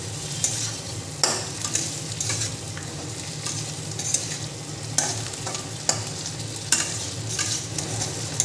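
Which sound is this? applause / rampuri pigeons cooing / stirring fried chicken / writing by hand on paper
stirring fried chicken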